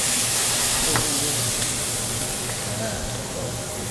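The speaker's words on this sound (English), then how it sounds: "Some fresh minced garlic. Let that bad boy sear up." Fresh minced garlic searing in hot extra virgin olive oil in a pan, a loud continuous hiss and crackle that stays fairly steady throughout, close up with a voice faintly underneath.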